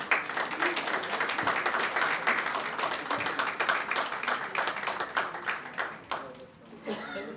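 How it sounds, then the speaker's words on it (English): Conference audience at a Dubai business summit applauding an honoured guest, sustained dense clapping that thins out near the end as a voice begins to speak. "let us applaud the remarkable contributions of Mr."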